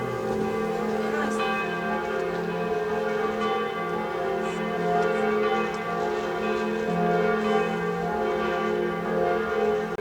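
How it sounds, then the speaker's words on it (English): Bells of Munich's cathedral ring steadily and loudly, their overlapping tones sustained for the whole stretch with faint outdoor ambience beneath. "I think it's the cathedral over here that's chiming behind me."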